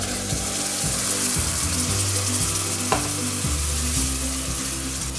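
Tomatoes frying with dry spices and sautéed onions in a pan for palak paneer, a steady loud sizzle with scraping stir strokes and a low hum running throughout, no voices.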